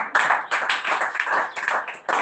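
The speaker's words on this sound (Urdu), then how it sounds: "خدا کے کلام کے لیے ایک بار زوردار تالی" A church congregation gives a loud burst of clapping for God's word, many hands together in dense rhythmic bursts, close and alone with no talk.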